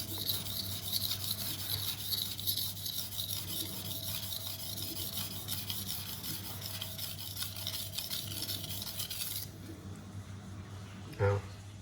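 A chef knife is rubbed back and forth on a Naniwa whetstone in a steady, soft scraping rhythm that stops near the end, with a low constant hum underneath.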